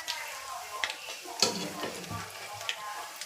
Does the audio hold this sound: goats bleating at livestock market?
no